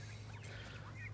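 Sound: turkeys gobbling in a farm pen

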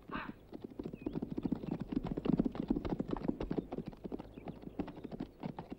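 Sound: horses walking, hooves clip-clopping

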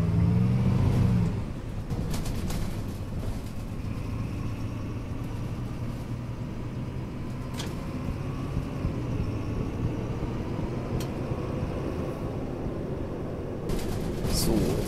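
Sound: MAN NL 223 bus driving in video game OMSI 2

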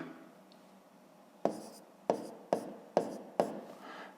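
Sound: writing numbers for long division

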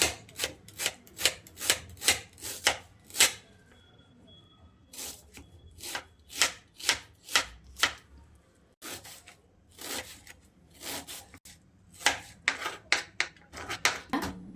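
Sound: chopping onion finely with a knife

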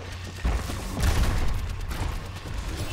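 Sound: gunfire in the video game Overwatch

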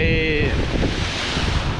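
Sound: strong wind at the seaside

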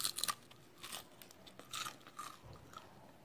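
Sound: biting into crispy fried pastry

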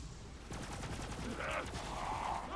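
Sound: enemy gunfire in the video game Borderlands 3

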